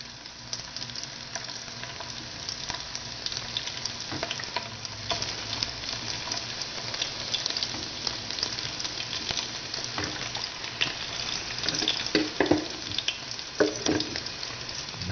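Garlic sizzles and crackles steadily in hot oil in a pan, a dense continuous frying hiss with occasional louder pops and stirring scrapes, close and fairly loud throughout with no talking.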